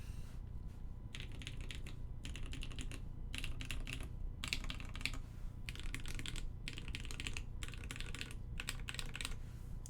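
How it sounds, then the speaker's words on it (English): Typing on a Doppelgänger prototype mechanical keyboard, close and clear, in quick irregular bursts of clacky keystrokes separated by short pauses, over a steady low background hum. "I'm going to try typing now."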